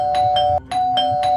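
A doorbell rings twice in a horror story setting, two bright ding-dong chimes in quick succession, loud and close with a brief gap between them.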